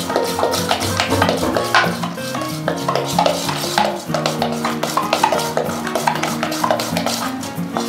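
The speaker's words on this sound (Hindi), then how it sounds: "इनो डालने के बाद इसे अच्छे से हमें मिक्स करना है।" A spoon stirs semolina idli batter after Eno is added, a steady run of close scraping and clinking strokes against the bowl with music playing throughout, no talk.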